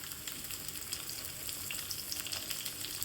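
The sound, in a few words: pointed gourd (potol) frying in hot mustard oil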